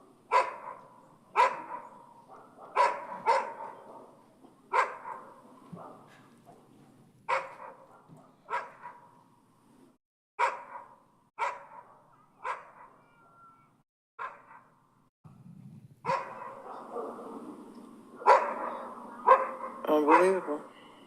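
Neighbours' dogs bark outside a house, heard from indoors in a Roswell neighbourhood: repeated sharp barks and yips in irregular bursts at moderate distance, some overlapping, with occasional whimpers and a voice speaking between them.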